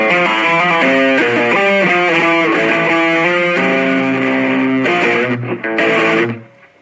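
Electric guitar played through a Blackstar Fly 3 portable mini amplifier, a distorted, effects-laden run of picked and tapped notes and chords, loud and close, ending with a few stabs before it cuts off.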